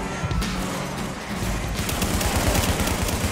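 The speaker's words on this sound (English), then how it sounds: "welcome back to The Division, where I'm in the middle of a firefight" A firefight in The Division erupts with loud, dense automatic gunfire and rapid bursts of shots, close and continuous, with thuds mixed in.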